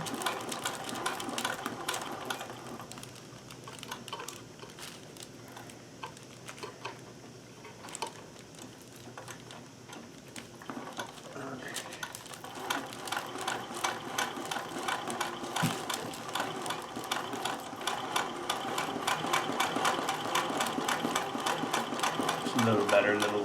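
An embroidery sewing machine runs a stitch, a fast rhythmic mechanical chatter of needle and gears that speeds up and grows denser toward the end, with a person talking over it at times.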